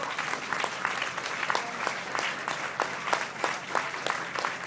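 A crowd at an outdoor public event in Acapulco, Guerrero, breaks into steady applause, dense clapping sustained evenly throughout without any voices on top.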